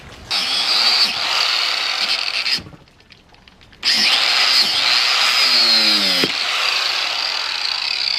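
Power-tool cutting through the last bit of an old motorcycle tire on a Ninja front wheel, a loud steady grinding whine that drops out briefly near the middle, then resumes for several more seconds.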